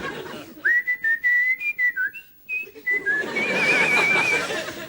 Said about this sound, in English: he was whistling the theme tune